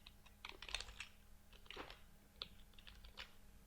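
Irregular bursts of keystrokes on a computer keyboard during a hands-on web coding tutorial, close and fairly quiet, with short pauses between clusters of taps and no talking.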